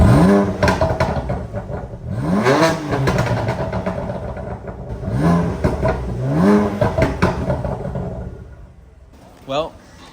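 A BMW F8x with an Active Autowerke equal-length mid-pipe on the stock exhaust revs loudly up close, several rising blips separated by brief settling idle.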